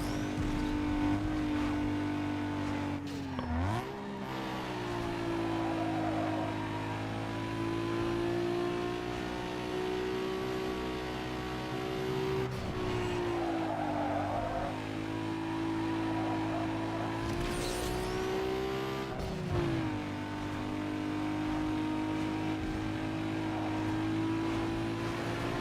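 Racing car in the game Need For Speed Underground 2, a loud, sustained engine drone that shifts pitch through several gear changes, with dips and surges as it accelerates and briefly squeals its tires.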